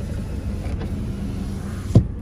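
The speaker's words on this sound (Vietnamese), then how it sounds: "Tất cả hệ thống kính điện của nó đều rất là đẹp" Electric power windows on a 2013 Kia Morning 1.25 manual hatchback whir with a steady low motor hum, close by, ending in a brief thunk as the glass stops.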